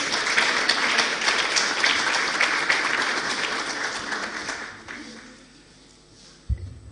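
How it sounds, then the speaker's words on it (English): Audience applause for a speaker at a university partnership event, a dense, steady round of clapping from a sizeable crowd that gradually thins and fades out, ending with a single bump. "let's give him a round of applause, please"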